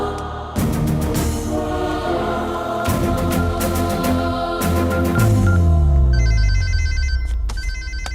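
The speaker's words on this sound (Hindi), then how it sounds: "ये इस वक्त क्यों फोन कर रहा है?" A telephone rings repeatedly in a steady pattern of bright electronic trills, loud and close, over a low background hum, with no talking.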